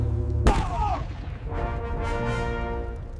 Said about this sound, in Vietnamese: Pháo địch bắn mạnh quá.